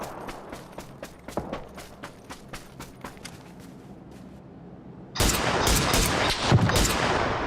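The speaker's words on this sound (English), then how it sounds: "Who that is shooting? That's y'all shooting." Gunfire in the battle royale game PUBG: a rapid string of sharp shots over about five seconds, then a loud dense burst of shooting and noise, with no talk.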